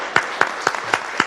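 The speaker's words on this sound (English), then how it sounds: "Let's give everyone a round of applause again." Applause at a local candidates night, heard here as a few distinct, evenly spaced claps, sharp and close, with small gaps between them.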